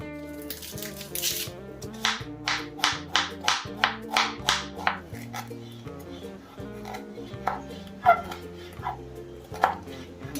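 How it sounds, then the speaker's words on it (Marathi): Vegetables for manchurian gravy are chopped with a knife on a board, a quick series of crisp strikes in bursts with short pauses, heard over steady background music. "आपल्याला जी ग्रेव्ही बनवायची त्यासाठी लागणारं काही चॉपिंग आहे ती करून घेऊया आधी"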